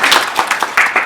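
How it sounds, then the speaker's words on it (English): Audience at a gala evening event clapping, a brief dense burst of applause from a crowd. "give yourselves a round of applause"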